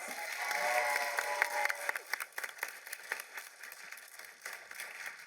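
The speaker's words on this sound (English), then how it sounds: "let's give one more round of applause for our panelists" Audience at a San Japan 2023 expo panel applauding, a faint, dense patter of clapping that swells briefly and then thins out into scattered claps.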